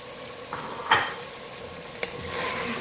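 Capsicum, 300 grams cut into long strips, is stir-fried with mutton in a pan: a soft continuous sizzle broken by a few light clinks of a utensil against the metal.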